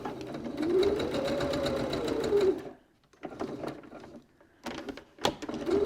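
A sewing machine with a regular presser foot stitches around a cylindrical case in bursts: a close, rapid humming whir that stops, restarts briefly, pauses again, then resumes, with no talking.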